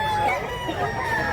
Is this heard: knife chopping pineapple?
no